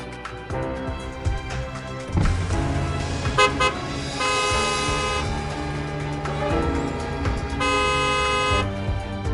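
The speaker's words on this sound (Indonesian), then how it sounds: "Klakson apa lagi?" Car horns honk repeatedly over a continuous traffic drone in a traffic jam. Some toots are short and others are long and sustained, as several vehicles honk.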